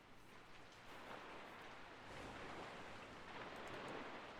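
Steady rain falls in the video game Murder in Paradise, a faint, even hiss of drops on surfaces with no voices.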